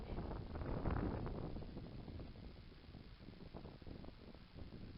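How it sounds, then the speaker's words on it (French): Outdoors while fishing, wind buffets the microphone with a steady low rumbling roar that swells and eases across the whole stretch, with no voices over it. "Il y a du vent aujourd'hui."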